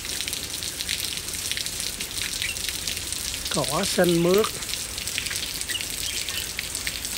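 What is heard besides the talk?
heavy rain falling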